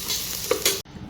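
Oil tempering of cumin, mustard seed, tomato, onion, garlic and ginger with potato, peanuts and soaked soybean, frying and stirred in a steel pressure cooker; steady close sizzle with a brief stir, cut off abruptly near the end.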